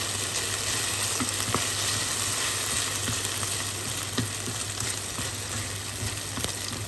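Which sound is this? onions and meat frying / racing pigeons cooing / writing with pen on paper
onions and meat frying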